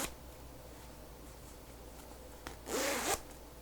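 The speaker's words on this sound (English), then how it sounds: "It's a zip pouch." A zip pouch project bag is zipped in one quick, close rasping pull near the end, after a quiet stretch with light handling rustle.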